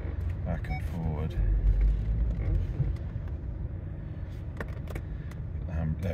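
A Land Rover Discovery 3 2.7 TDV6 diesel rumbles low and steady as it is shifted back and forth, the engine swelling briefly, with someone talking over it.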